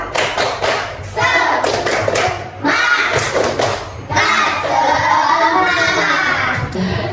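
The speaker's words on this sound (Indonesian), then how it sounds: "Coba kita tepuk semangat!" Schoolchildren in a classroom do a rhythmic spirit clap, sharp patterned bursts of claps and thumps in quick sets, with children's voices chanting along between and over the beats.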